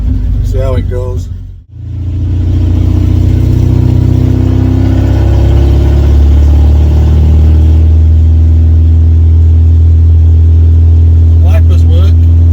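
A 1986 Ford Cortina P100 pickup engine revs loudly and steadily close by, its heavy drone holding for most of the stretch after a brief dip, with rain-lashed driving conditions and a voice talking over it.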